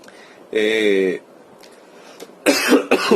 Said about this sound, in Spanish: todavía sigo tosiendo